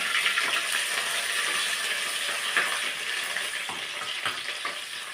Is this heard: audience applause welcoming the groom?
no